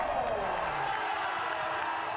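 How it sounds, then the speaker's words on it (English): Basketball crowd roaring in a continuous wash of cheers and whoops, loud and sustained throughout with a voice talking over it. "There's jubilation in the crowd"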